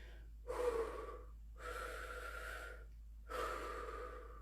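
Slow, deep diaphragmatic breaths are demonstrated close to the mic, three long audible airy inhales and exhales in a quiet room.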